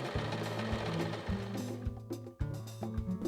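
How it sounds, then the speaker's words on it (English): Kenmore 385.15752 sewing machine stitching a buttonhole, a rapid rhythmic mechanical chatter with short stops and restarts, close and fairly quiet, with no voices. "Press down the foot pedal to start sewing the buttonhole."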